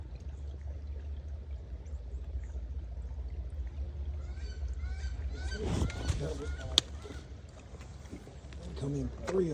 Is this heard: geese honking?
yes